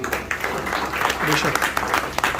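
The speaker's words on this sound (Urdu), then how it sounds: "بھرپور تالیاں طارق صاحب کے لیے بھی۔" An audience gives applause at a Pakistan Independence Day poetry gathering in a London community centre, a steady spread of clapping lasting throughout, with a voice speaking over it.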